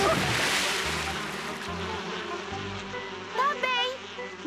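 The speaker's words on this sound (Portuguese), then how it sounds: "Se livra dos zumbidos voadores!" Flying insects buzz in a cartoon scene, a busy whirring drone under a rushing background, followed by a brief voice near the end.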